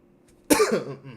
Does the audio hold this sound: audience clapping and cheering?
no